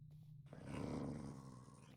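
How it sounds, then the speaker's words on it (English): A mob growls in the dark Minecraft modpack Fear Nightfall, a low, rough, sustained snarl that swells loud through the middle and holds to the end, preceded by a brief quiet lead-in. "Okay, keep growling at me."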